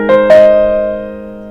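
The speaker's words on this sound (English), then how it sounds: "So this is currently the sound of the keyboard." A digital piano keyboard plays two quick notes in succession, clean sustained tones that ring out and slowly fade, with nothing else audible.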